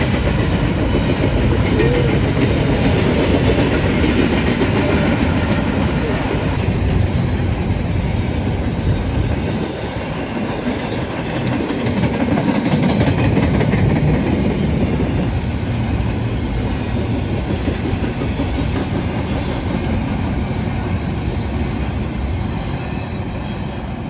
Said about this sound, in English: he was pretty sizable for an empty bare table train